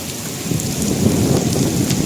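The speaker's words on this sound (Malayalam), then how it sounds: "നല്ല കാറ്റും മഴ." Heavy rain with wind and thunder, a loud dense downpour whose low rumbling swells and grows stronger after the first half second, continuous and close, with no voices.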